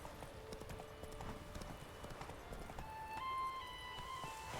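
Hooves of the horse Roach clip-clopping in The Witcher 3 video game, a steady rhythmic trot at moderate distance under ambient game music and tones, with no talk.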